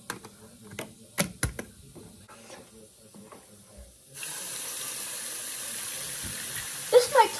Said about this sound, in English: Just filling out the sink with water.